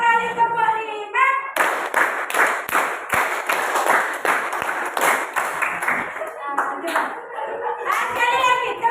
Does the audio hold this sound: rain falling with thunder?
no